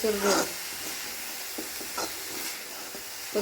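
Banana flower stir-fry is stirred in a hot pan, with a steady soft sizzle and several distinct scraping, clattering strokes spaced through the moment.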